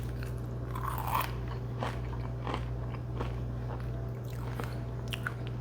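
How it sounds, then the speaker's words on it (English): Someone bites and chews oven-roasted Brussels sprouts, producing several close, crisp crunches spread over a few seconds against a low steady hum. "just see how crunchy these are"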